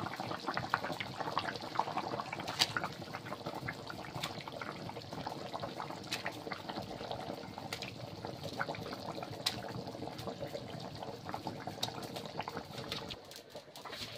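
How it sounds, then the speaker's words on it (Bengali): Fish curry with potatoes bubbles in a pot as a fish head is dropped in, giving soft continuous boiling with scattered splashes and small clinks, close and fairly quiet. "তরকারি ফুটে উঠেছে, এবার মাছগুলো দিয়ে দেবো। প্রথমে মাথা দিয়ে দিচ্ছি।"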